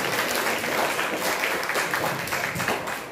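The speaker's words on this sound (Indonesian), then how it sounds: "Tepuk tangan dong untuk ibadah beliau." Audience at an alumni motivational talk applauds steadily for about three seconds, a dense, continuous clapping that tapers off slightly at the end.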